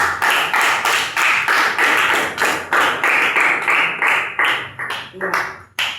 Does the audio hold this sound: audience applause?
yes